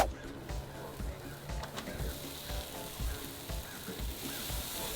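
Sirloin cap (coulotte) searing on a grill, giving a steady low sizzle with faint crackles and a soft hiss that holds even for a few seconds, no talk.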